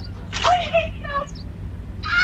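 A bird swooping at a delivery driver at a doorstep lets out harsh honking calls in short separate bursts, close and fairly loud against outdoor background noise.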